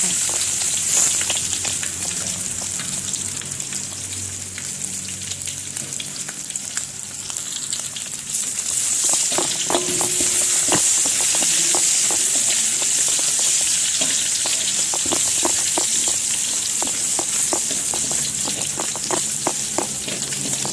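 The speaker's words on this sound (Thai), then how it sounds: "เราจะเอากระเทียมนะคะลงไป เคี่ยวให้เหลืองหอม" Garlic fries with pork belly in a hot pan, a loud steady sizzle close up with scraping stir strokes joining in partway through and continuing as a rapid series of clicks.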